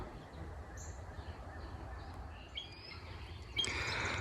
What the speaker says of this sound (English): though the sun's risen and day has come, the birds are still upset